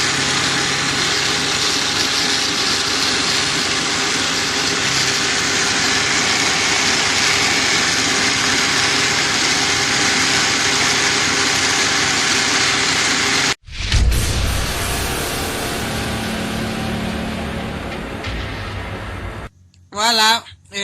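A blender whirring through an avocado smoothie, a loud steady motor whine for a long stretch that cuts off abruptly, followed by rougher churning noise and a couple of short bursts at the end.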